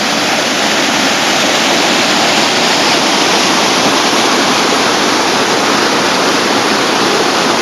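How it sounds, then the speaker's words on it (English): Waterfall at a wilderness canoe portage between Eddy Lake and Keck Ponds, a loud, close, unbroken roar of rushing water that holds steady throughout, with no talking. "this is the waterfall here at this portage."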